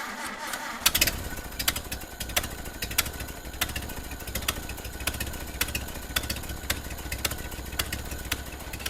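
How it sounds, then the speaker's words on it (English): A Ford Model A engine with a leaking exhaust starts and then runs at a steady idle, making a close, continuous rumble with evenly spaced ticking puffs throughout. "So I got the engine running here"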